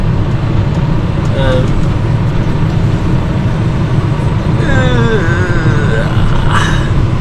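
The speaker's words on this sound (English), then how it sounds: "I'm actually now just trying to back up the bale trailer" A tractor reversing a bale trailer on a haylage farm: a loud, steady engine drone with heavy low rumble runs throughout, with faint rising and falling tonal whines from the machinery.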